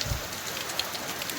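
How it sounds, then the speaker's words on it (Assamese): Heavy monsoon rain pours down during flooding, a thick, constant roar of drops striking surfaces nearby with a few louder spatters. "সেই তেতিয়াৰ পৰা বৰষুণ মানে মাৰি আছে চাওকচোন"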